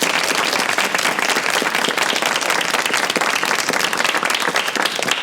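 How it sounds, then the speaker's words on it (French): Loud, dense audience applause, many hands clapping close and continuously in a steady roar that carries through the whole stretch without talk. "On les applaudit."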